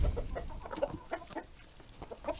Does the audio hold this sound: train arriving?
no